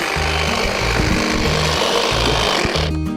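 An EGO 24-inch cordless hedge trimmer cuts through thick limbs around three-quarters of an inch across, its motor running steadily and loud without pause, with a rough, grinding cutting texture throughout.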